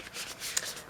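Tarot cards being shuffled by hand in a short, soft burst of papery riffling and rubbing, with a slightly sharper flick near the middle, close and quiet with no talking.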